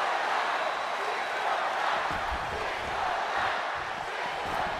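Wrestling crowd in WWE 2K23 cheering and roaring, a continuous wash of arena noise at moderate level with faint shouts rising in the middle.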